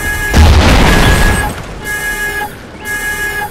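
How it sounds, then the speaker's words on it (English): A K.E.M. chemical strike hits in a first-person shooter game, opening with a loud booming blast and rumbling burst, followed by sustained electronic alarm tones that stop and restart. "Friendly chem strike incoming."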